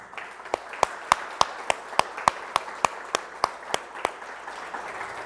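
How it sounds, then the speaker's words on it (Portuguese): A church congregation claps in a slow, regular rhythm, about fifteen sharp, evenly spaced claps over a soft background murmur, with no clear talking. "Você pode aplaudi-lo nesse momento?"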